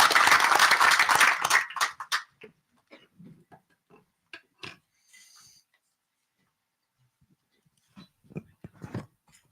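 Audience at a community presentation event bursts into dense clapping for a contestant. The applause is loud and close for about two seconds, then fades out, leaving scattered faint sounds.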